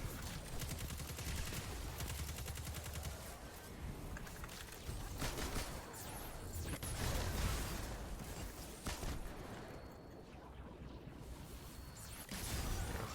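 Gunfire while shooting enemies in the Destiny 2 video game: dense, continuous rapid shots and bursts that stay loud and close throughout, with no pauses and no talking.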